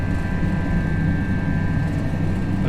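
Steady engine roar of an Airbus A321 airliner on its takeoff roll in a flight simulator at night, a loud continuous rumble with a thin sustained whine above it, no voices.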